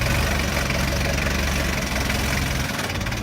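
A forklift engine runs loud and close as the machine pulls forward, a steady rumbling drone with a rough, knocking idle texture throughout.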